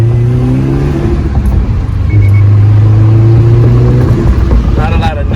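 A stock Subaru with a turbo engine, before any Cobb Stage 1 tune, idling and revving with a steady low drone and rising tones that stay loud and close throughout.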